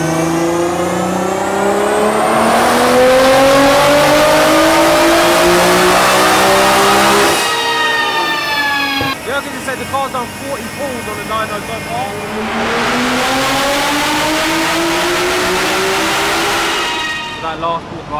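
A 1889hp Nissan GTR roars through a dyno pull. Its engine climbs steadily in pitch, drops briefly at a gear change, then revs up hard again, loud and close the whole time, before trailing off.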